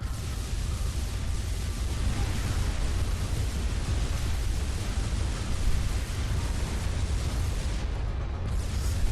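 Missiles shot down in the space strategy game Sword of the Stars II, heard as a dense, continuous rumble of explosions and bursts, loud and unbroken throughout.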